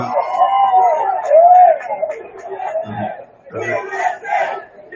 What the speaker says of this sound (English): now there's some cheering.